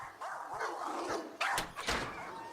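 A dog in the video game Claire gives a few short barks and yips over a hazy, droning ambient background, the louder bursts coming near the end.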